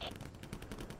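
Rapid, imprecise weapon fire in a Starship Troopers shooter game during a fight against giant insects, a dense burst of shots close up with little pause, under a faint voice.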